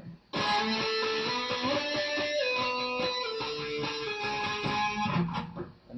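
Electric guitar playing a part from a song, a sustained, full strummed passage with ringing chords that holds steady for several seconds and then fades at the end.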